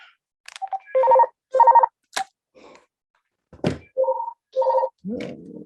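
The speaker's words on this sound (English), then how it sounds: "sorry, that's my phone, I'll turn it off." A mobile phone ringtone rings out in repeated short electronic bursts with brief gaps between them, loud and close in a quiet room, with a few soft knocks around it.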